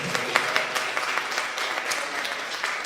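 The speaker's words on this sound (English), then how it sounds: "can we give a big round of applause?" Guests at a wedding ceremony give a round of applause, a moderate, somewhat sparse clapping with individual claps standing out, continuous and steady across the moment.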